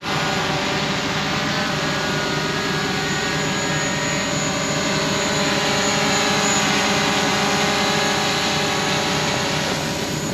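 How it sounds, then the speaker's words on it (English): A DJI Mavic Pro drone flies over a hay field, its steady high-pitched propeller whine droning loud and unbroken throughout, with no talking. "This is our drone, so it's a DJI Mavic Pro."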